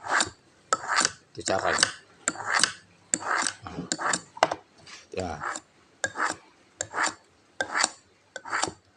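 Dull kitchen knife blade pulled backward across the unglazed underside of a ceramic plate, a series of about a dozen short, gritty rasping scrapes in a steady rhythm, with a person speaking briefly between strokes.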